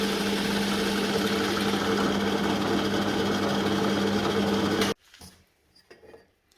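A power tool runs steadily and loudly while cutting a groove in a wooden dowel, a constant motor whine with a grinding edge that stops abruptly, followed by faint handling knocks.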